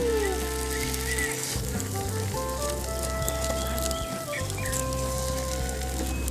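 Rice flour batter for patishapta pitha sizzles on a hot tawa with a steady, even hiss and a low hum throughout, while birds and chickens call faintly in the background.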